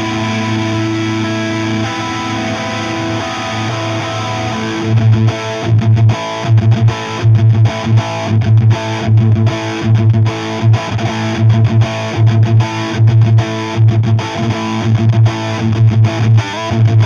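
Electric guitar played through a small-builder Dunsh distortion pedal, a steady sustained chord giving way to chunky, rhythmic distorted riffing with repeated palm-muted stabs, loud and alone.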